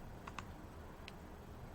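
Calculator buttons pressed while an expression is keyed in: three light, quick clicks in an uneven pattern, faint against a steady background hiss, with no voices.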